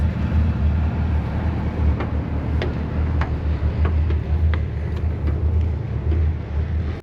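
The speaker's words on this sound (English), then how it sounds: "this sounds like a regular engine" A tour boat's engine runs steadily throughout on a sailing trip in Krka National Park, a constant low droning hum with a few faint ticks above it and no talk.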